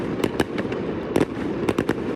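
Fireworks go off in a quick series of sharp cracks and bangs over a constant rumbling background, with clusters of loud pops near the start, middle and end. Nobody speaks.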